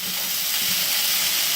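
Ham fried rice tossed in a hot cast iron skillet gives a loud, continuous steamy hiss and sizzle, close and unbroken, with no voices.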